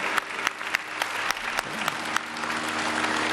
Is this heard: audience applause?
yes